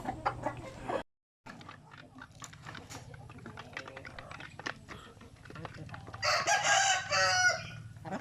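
Hens cluck and a rooster crows amid farmyard noise, with a person talking over them; a louder burst of bird calls rises near the end.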